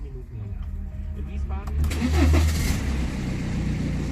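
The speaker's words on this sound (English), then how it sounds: "I will try to start the car to see if everything works" A BMW car engine cranks and catches, the starter whirring before the motor fires with a loud burst and settles into a steady idle close by, with a person speaking quietly.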